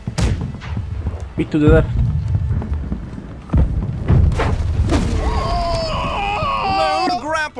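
Ship cannons fire in the naval video game Blackwake, several loud booming blasts landing at irregular intervals over a busy battle din while crew members talk.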